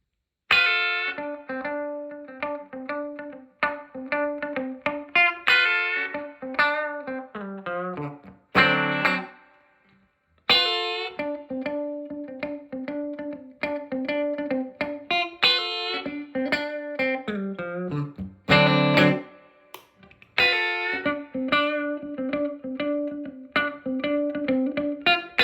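Clean notes and chords from a Telecaster Thinline electric guitar played through an old Fender Deluxe Reverb amp, moving across different pickup settings, with ringing sustained phrases broken by two short pauses and strummed bursts.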